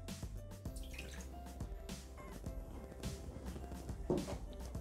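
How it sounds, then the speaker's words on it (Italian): Milk pours into a Thermomix TM6 mixing bowl, a soft, faint trickle with small drips and splashes, heard up close and without voices. "Iniziamo la ricetta mettendo all'interno del boccale il latte"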